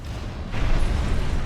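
Missile strike explosions in the mech combat video game Armored Core VI burst in suddenly after a quiet moment, then roll on as a loud, sustained booming rumble.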